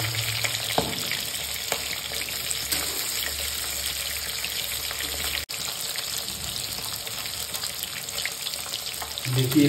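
Pieces of a 3 kg river rohu fish fry in oil for a Bihari-style mustard curry, a loud, steady sizzle with bubbling crackle that continues without break, close up.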